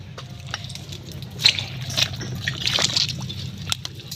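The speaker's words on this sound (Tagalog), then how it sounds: "talagang sa gilid lang maliit na sapa ito" A small stream by the bank flows with gentle trickles, drips and sloshing water, close and moderately quiet over a low steady background rumble.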